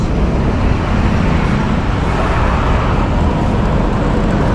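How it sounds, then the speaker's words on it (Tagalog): Heavy road traffic in Moriones with many trucks, a dense continuous rumble of engines and tyres close by, steady and loud without any break. "Traffic, maraming truck dito yan sa Moriones."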